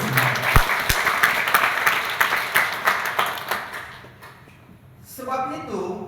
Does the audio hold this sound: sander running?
no